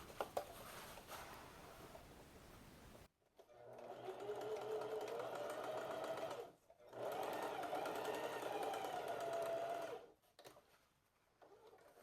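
A sewing machine stitches the seam of a wrap skirt-short, running in two sustained bursts with a brief pause between them and then stopping. Quiet handling noise comes before and after.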